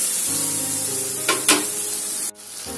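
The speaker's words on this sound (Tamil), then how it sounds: "மஞ்சத்தூள் ஆட் பண்ணிடுவோம். நல்லா வதக்கி விடுவோம்." Okra sabji with turmeric and tomato sautéing in a pan, a bright close sizzle with a couple of louder stirring bursts midway and an abrupt drop near the end.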